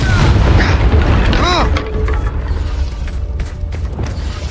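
A fiery Confringo spell in Hogwarts Legacy bursts as a loud, booming blast with a rolling rumble that slowly fades, backed by game noise and a voice.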